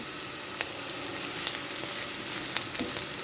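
Leafy greens fry with chopped green chili in a pan, giving a bright, steady sizzle close by, with a few sharp pops and crackles breaking through the continuous hiss.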